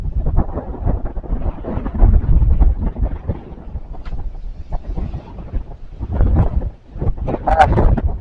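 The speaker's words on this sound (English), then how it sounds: "Wind's picked up bad?" Strong storm wind gusts batter the microphone in heavy, rumbling bursts that rise and fall irregularly, with no talking.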